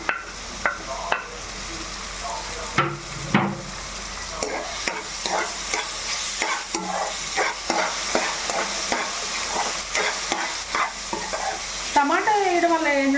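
Tomato pieces frying with onions in a pan hiss and crackle steadily while a spoon scrapes and stirs in repeated close, clattering strokes, the sizzle building toward the end.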